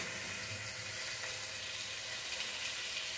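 Steady hissing crackle of spices sizzling in hot oil for a fish curry, continuous and fairly close, with no voices.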